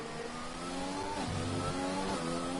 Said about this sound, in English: he's on the pit limiter at full revs into there